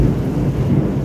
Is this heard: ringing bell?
no